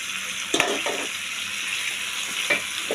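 Peas tipped into masala frying in a pan, a steady sizzle with a couple of sharp clinks and short scraping stirs, close by and without talking.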